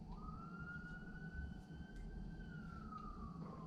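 A city emergency siren wails far off, one long rising and falling tone sitting faintly over a steady low rumble of traffic.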